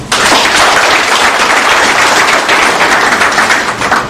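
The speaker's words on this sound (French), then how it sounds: "Je crois qu'il faut applaudir ça." Audience at a Magnificat Invest Cameroun crowdfunding presentation breaking into loud, continuous applause, a dense crackle of many clapping hands that swells quickly and stays strong for about four seconds before easing slightly.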